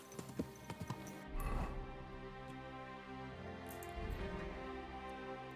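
Horse hooves clip-clop in a short run in the video game Kingdom Come: Deliverance II, then again later, over a steady soft music backdrop.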